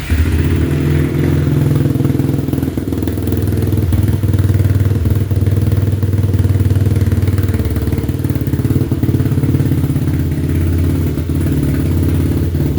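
An XPro Storm DLX 150 motorcycle engine, choked on a cold morning after sitting three days, idles steadily at close range with a low, even putter and occasional mechanical clatter and thumps, with no talking.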